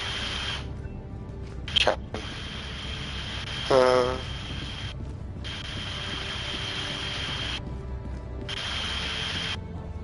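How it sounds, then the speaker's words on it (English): A fan running in a room picked up by a headset mic as a constant broadband hiss that repeatedly cuts in and out, with brief voice sounds and a click over it. "I had a fan going off in the background"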